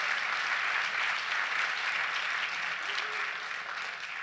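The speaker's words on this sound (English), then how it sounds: "Let's give her a big round of applause." An audience at a governor's census funding announcement applauds steadily, a dense, even wash of clapping that holds throughout and tapers slightly at the end.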